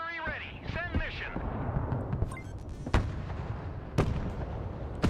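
Mobile artillery in the video game Broken Arrow fires several sharp, booming shots at irregular intervals, loud and close, after a radio-style voice speaks at the start.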